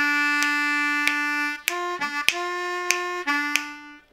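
Blues harmonica lick on a G harmonica, a sustained two-hole draw note repeated in an eighth-note rhythm with half-step draw bends, reedy and close, played alone with no voice.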